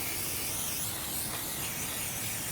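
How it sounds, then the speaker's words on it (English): Brake cleaner sprayed onto a new Volvo XC brake rotor, a steady soft hissing spray that runs for the whole few seconds, close by and alone. "wash it like this with the brake cleaner on one side and on the other as well"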